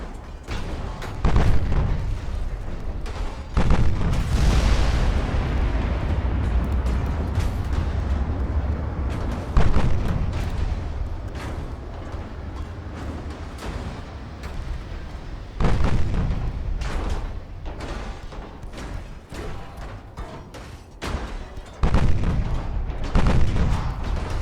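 Battleship main guns firing in the naval game Ultimate Admiral Dreadnoughts: repeated heavy booms and rumbling blasts, loud and close, overlapping in irregular salvos throughout with no talk.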